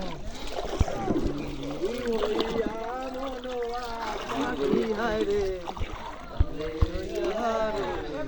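A rowboat carries a group of travellers through the flooded Ratargul swamp forest in Bangladesh, with soft water trickles and paddle sounds running under steady close talking and voices throughout.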